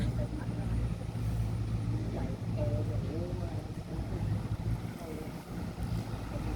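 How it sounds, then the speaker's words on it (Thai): A steady, loud rush of Chao Phraya River water roars throughout, like a waterfall, with a voice speaking faintly over it. "ดูน้ำดิค่ะได้ยินเสียงไหม เสียงมันน้ำตกเลยค่ะ"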